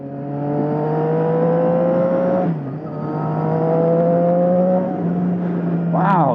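A Triumph Street Triple 675 motorcycle runs with a steady, loud, humming exhaust drone, dipping briefly mid-way, then rising in a sharp rev near the end.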